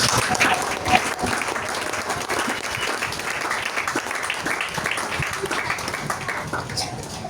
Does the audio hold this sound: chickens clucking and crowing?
no